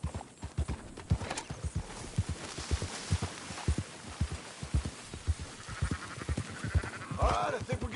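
Sheep bleat in a video game amid a herd scene dominated by rhythmic horse hooves clip-clopping close by, with a horse whinnying and more bleats rising near the end.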